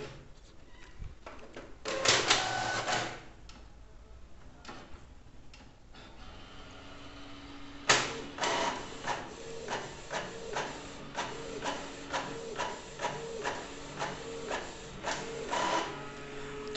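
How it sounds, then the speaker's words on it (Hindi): A Canon inkjet printer with refilled PG-47 and CL-57 cartridges runs a black and white print: a whirring feed, then a steady series of rhythmic mechanical clicks and shuttling passes, close and moderately loud. "फिर से एक ब्लैक एंड व्हाइट प्रिंट देते हैं।"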